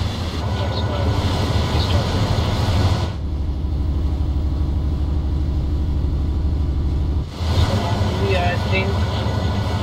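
Simulated Class 66 diesel locomotive in Train Sim World 4 hauling a cement train of eight to ten wagons on the Birmingham Cross City line, a steady low engine and rail rumble throughout, with someone talking over it.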